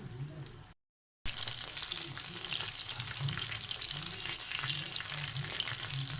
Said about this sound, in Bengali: এখন চিকেনগুলোকে গরম তেলে ভেজে নেব।